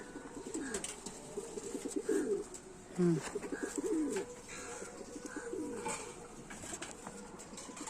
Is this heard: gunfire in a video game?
no